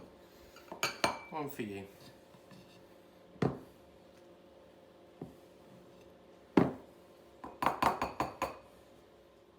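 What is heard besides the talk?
spooning buttercream into bowls with a spoon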